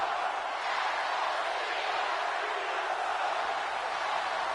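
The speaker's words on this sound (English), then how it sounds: "crowd chanting, "Let's go Cena, Cena sucks."" Crowd noise in the WWE 2K17 wrestling video game during a John Cena match, a broad steady roar of an arena audience chanting, continuous and moderately loud without clear individual voices.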